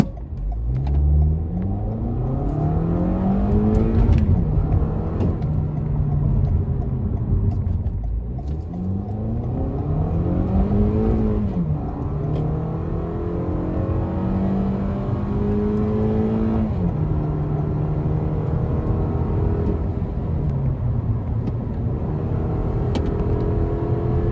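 A 2023/24 Toyota Camry SE driven in sport mode with stability control off, its engine loudly revving up and shifting in repeated rising sweeps, a continuous close cabin drone of acceleration with no talking.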